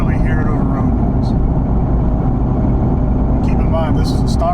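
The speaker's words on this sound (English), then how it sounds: "Cruising at 70, can barely hear it over road noise." A steady, loud rumble of road and engine noise from a supercharged car with a stock exhaust and automatic gearbox cruising at 70, with brief faint voices near the start and end.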